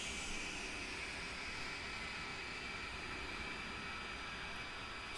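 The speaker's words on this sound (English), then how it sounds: "Both your engines are idling fine." Aircraft engines idling in a flight simulator game during startup, a steady faint jet whine and hiss held evenly throughout, with no talking.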